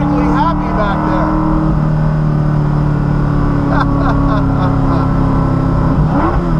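A Coyote V8 swapped into a Porsche Cayman, making 425 wheel horsepower, drones loudly and steadily from inside the cabin, with a voice speaking over the engine noise.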